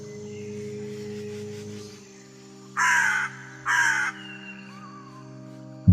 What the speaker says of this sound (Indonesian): Itu suara burung yang belum pernah kalian dengar seumur hidup.